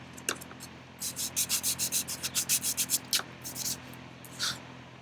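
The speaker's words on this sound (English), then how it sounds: "right there we're going to put 220 scratches on it" Rhythmic hand sanding of car body paint with fine 220-grit sandpaper, a run of about a dozen close, even scratchy strokes followed by a few slower passes, with no talking.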